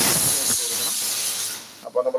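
A pressure cooker holding pumpkin and beans lets out a loud, sustained steam hiss that cuts off abruptly, followed by a brief burst of talking.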